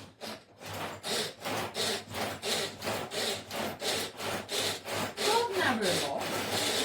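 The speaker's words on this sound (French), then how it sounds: "Et on va mélanger." Tuna mixture for mini donuts stirred in a bowl, giving a steady train of about a dozen rhythmic scraping strokes, close and fairly loud, with no talk.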